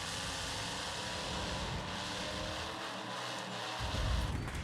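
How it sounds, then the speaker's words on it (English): Loud, steady roar of a monster truck engine during a race in the Monster Truck Championship video game, a broad droning rumble that holds throughout and swells slightly near the end, with no talking. "I really should turn the engine down a little more, huh? Seems super loud on my end."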